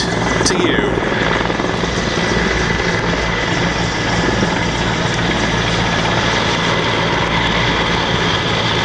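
A Mil Mi-8 'Hip' military helicopter performs an airshow display, its rotor and turbine roar loud, constant and close throughout the clip.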